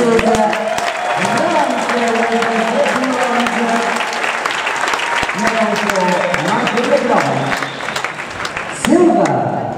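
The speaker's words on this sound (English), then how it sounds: "Let's give them a good round of applause again." A crowd at a junior reining championship award ceremony claps in sustained applause, while an announcer's amplified voice talks over it throughout, the clapping dense and steady before thinning near the end.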